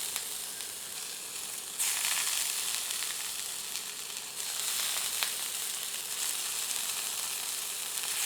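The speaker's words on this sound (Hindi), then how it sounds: "अब पैन में पनीर के टुकड़ों को हल्का भूनते हैं।" Paneer pieces fry lightly in a little hot oil in a pan, a steady close sizzle that swells louder twice as the pieces shift, with no talking.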